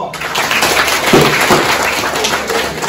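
Applause from an audience at a Social Equality Day event for quiz participants: continuous, fairly loud clapping lasting a few seconds, with little speech.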